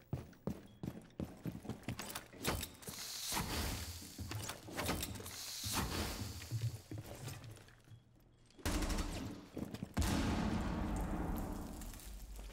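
A grenade goes off during a Rainbow Six Siege match amid rapid clattering gunfire-like game effects, followed by sudden loud blasts near the end.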